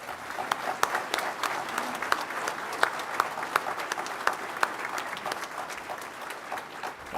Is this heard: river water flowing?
no